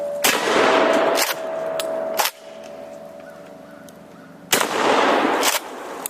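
A shotgun fires a slug at an old, long-emptied propane tank outdoors: two loud, sharp blasts a few seconds apart, each with a broad crack and echoing tail, with a steady hum between them.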